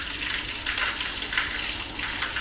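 Water from a spring runs steadily as a continuous broadband rushing and splashing, fairly close and even in level, with no talk over it.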